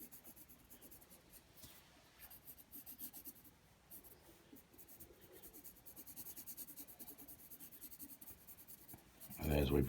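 A pencil darkens the lines of a bison drawing on paper, a soft steady scratching and rubbing of graphite that continues for several seconds, close and quiet, before a brief louder burst at the end.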